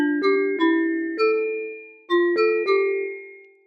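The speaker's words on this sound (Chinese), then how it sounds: "蛮标准的一个 bell 嘛" A clean, unprocessed synthesized bell instrument on a MIDI track in Max for Live strikes six clear, ringing tones in an uneven melodic pattern. Each note decays smoothly, and the notes sound close and bright, with no voices.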